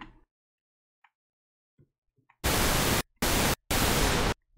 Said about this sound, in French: Si j'ai envie de rajouter le générateur de bruit, ici, je vais avoir le noise, j'ai juste à augmenter. Et choisir entre un bruit blanc ou un bruit rose.